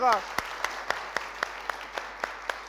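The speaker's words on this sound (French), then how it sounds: "un public magnifique qui va d'ailleurs s'applaudir" After a brief voice at the start, slow, evenly spaced single claps from a TV studio audience ring out, about one every quarter second, fairly close and sparse.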